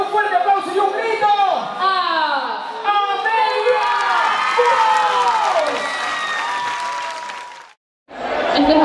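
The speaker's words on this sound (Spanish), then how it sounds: "recibámoslo con un fuerte aplauso y un grito" Audience cheers, whoops and applauds loudly at a Spanish-language music show, a dense crowd roar with shrill shouts and voices rising over steady clapping, briefly cutting out near the end before resuming.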